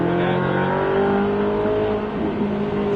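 Race car on the Albi circuit accelerating hard, a loud close engine whine rising steadily in pitch over a few seconds with no voices.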